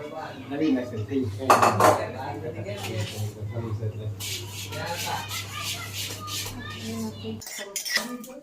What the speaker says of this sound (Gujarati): આવી રીતે આપણે વડીના ટુકડા કરી લઈશું.